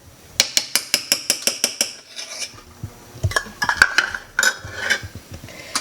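A spoon stirs a sticky popcorn ball mixture of marshmallow and white chocolate in a metal pot, knocking against it in a quick run of evenly spaced clanks, then scraping and tapping more irregularly, close and clear with no talk.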